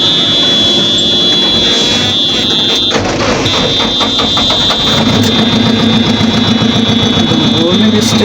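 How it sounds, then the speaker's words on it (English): A JCB backhoe loader's diesel engine runs loudly and close, with a steady high-pitched warning buzzer sounding continuously over it, briefly cutting out before resuming. "The warning is still coming, but my machine has started."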